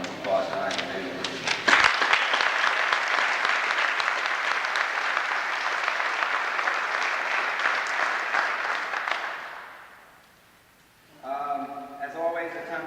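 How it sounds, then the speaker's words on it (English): Sustained audience applause at a Navy retirement ceremony fills about ten seconds at steady strength, then fades out, after which a voice speaks. "I'd kind of like everybody to join me in a round of applause tonight"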